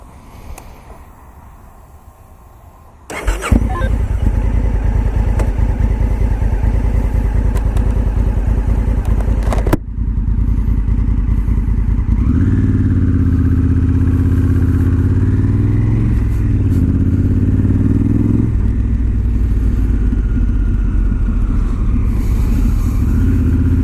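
A Honda Africa Twin motorcycle engine fires up loudly nearby after a quiet moment, then rumbles and revs steadily as the bike pulls away and rides on.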